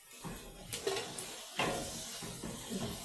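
Onions frying in a pan while cooking supper give a faint, steady sizzle, broken by a few soft clinks and scrapes of stirring; no one speaks.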